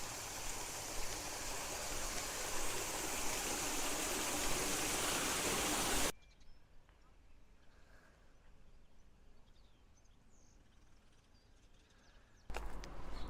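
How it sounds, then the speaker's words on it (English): Steady rushing splash of water fountains in a caravan park, loud and continuous for several seconds, then cutting to a much quieter outdoor hush before the water returns briefly at the end. "they've even got a few fountains going on as well"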